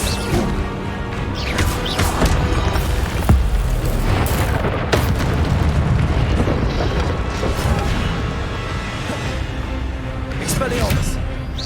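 Spell combat in Hogwarts Legacy on PC: dense booms, crashes and magical impacts fill the scene continuously, with a voice calling out over the loud game effects.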